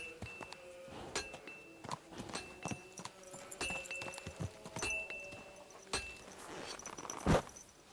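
Horse hooves clopping in the medieval game Kingdom Come: Deliverance II, a string of irregular near hoofbeats with clinks and thuds, ending in a louder knock.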